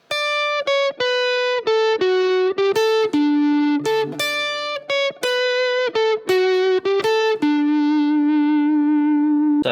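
Clean electric guitar plays a riff: a steady run of separate picked notes, with brief gaps, some slides, and a final held note at the end.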